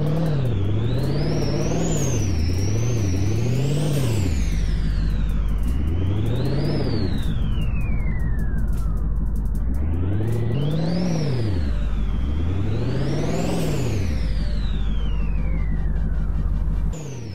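A video game tow truck's 6.0 engine revs up and down repeatedly, its throaty pitch rising and falling in loud sweeps with a high turbo whistle on top.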